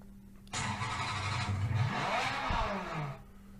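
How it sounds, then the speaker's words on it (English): KITT-style car sound effect from a Knight Rider interface: a sudden loud electronic engine whoosh and rev that swells and sweeps in pitch for about three seconds before cutting off. "Imitate a car."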